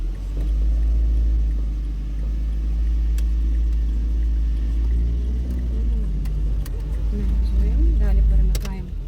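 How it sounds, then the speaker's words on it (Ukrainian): A car pulls away in first gear on a driving-test route in Ivano-Frankivsk, its engine a steady, close low rumble that holds throughout while an instructor keeps talking over it. "Вмикаємо першу. Дивимося по боках обов'язково, всюди, де можеш, і їдемо."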